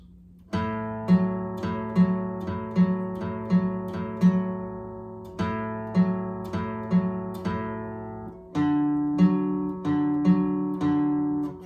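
Slow acoustic guitar riff from a song, each plucked note ringing out in a steady repeating pattern, with no voices.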